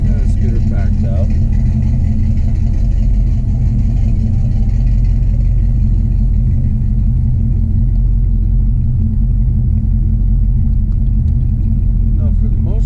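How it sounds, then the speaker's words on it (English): Inside a modified Cadillac hearse on the road, a steady low engine rumble and road drone fill the cabin continuously and loudly, with faint incidental knocks now and then. "I think Bob and I are going to go for a drive here"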